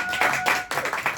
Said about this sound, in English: give a round of applause to yourself